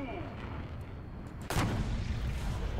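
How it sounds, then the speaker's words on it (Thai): A T-62 tank cannon fires in the War Thunder video game with its bore evacuator effect, a sudden heavy boom bursting over a steady engine rumble and lingering as a broad roar. "การไล่แก๊สในท่อของปืนนะ ปึ้ง เอฟเฟคไล่แก๊สเนาะเท่มาก ลองกับ T62"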